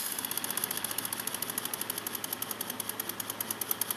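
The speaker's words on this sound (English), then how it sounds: "I've got the hose pinched off most of the way, so it's just ticking over." A small engine idles at a steady fast tick, resting on fluffy paper towels with its hose pinched off most of the way, a close, even rhythmic knocking with a bright, buzzy ring over it.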